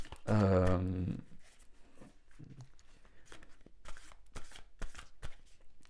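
A tarot card is handled and laid onto a card spread during a reading: one loud, close card-shuffling rustle at the start, then only faint scattered rustles and taps.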